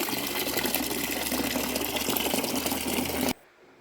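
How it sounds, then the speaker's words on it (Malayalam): Takara leaves are set to soak as water gushes steadily into a vessel for about three seconds, then cuts off abruptly to near quiet. "ഇനി നമ്മുടെ തകര കുറച്ച് സമയം വെള്ളത്തിലിട്ട് വെക്കാം"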